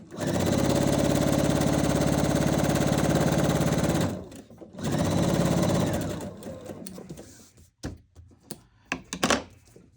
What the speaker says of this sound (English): Again, I'm sewing all the way on and all the way off the paper.